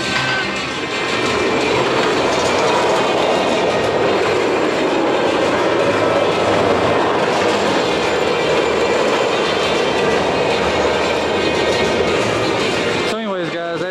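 The Wonder Woman roller coaster train at Six Flags Fiesta Texas rumbles along its track with a loud, continuous roar and clattering wheels, a steady wall of rail noise that cuts off abruptly near the end.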